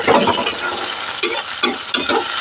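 Chopped green chilies fry with onion in a pan for a spring onion greens dish, giving a steady close sizzle broken by several sharp scraping stirs, with no talking.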